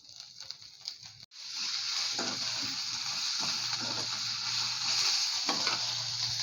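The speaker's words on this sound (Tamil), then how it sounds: "மித்த எல்லா பொருளையும் உள்ளே சேர்த்து நல்லா எண்ணெயில் வதக்கிக்கலாம்." Drumstick leaves, coriander and other ingredients saute in oil in a pan with a loud, steady sizzle. A brief clatter of ingredients going in comes before it, and no one talks.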